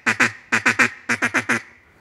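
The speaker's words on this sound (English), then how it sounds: "So on the feeding call, you use that to mimic birds on the water feeding." A mallard duck call blown as a feed call gives quick, nasal paired and tripled quacking bursts in a close, loud, rhythmic 'dugga dugga' pattern, with no talking.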